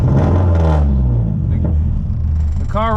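A Nissan S14 engine runs loudly up close, a heavy rumble that swells and then settles into a steady drone, with a short voice near the end.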